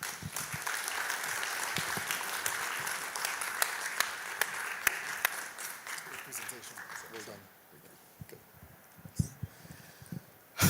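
Audience applause at an agricultural finance learning event: a full crowd claps steadily for about seven seconds, then it thins to a few scattered claps under quieter room sound and voices.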